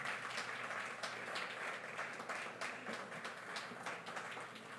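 An audience applauds to welcome guests at a media collaborative event, a steady, fairly faint wash of clapping that lasts throughout with no talking.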